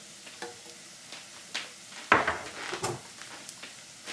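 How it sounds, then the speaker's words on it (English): Mushrooms sauteing in butter in a pan give a soft, low sizzle, broken by a few light utensil taps and one sharper clank near the middle, close and fairly quiet. "we're just gonna saute the mushrooms in some butter here"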